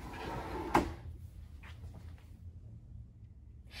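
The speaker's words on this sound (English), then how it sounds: "now I will show you under each drawer." A drawer inside a 2021 Renegade Verona LE 40LRB motorhome slides and bumps shut with one sharp knock, followed by faint rustling in a quiet interior.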